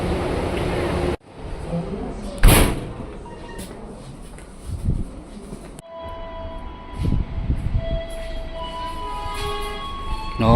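At a crossing on an Indonesian railway, a passenger train rushes past close by with rumbling wheels, clattering wagons and a short horn blast, while people talk over the passing noise.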